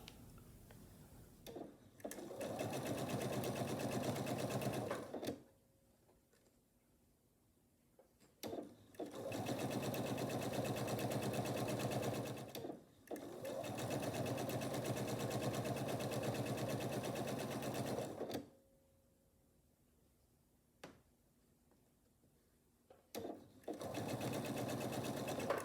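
A sewing machine stitches pieces of quilt blocks in long, fast, steady whirring bursts of several seconds each, separated by quiet pauses and small clicks as each piece is fed through, close up with no talking.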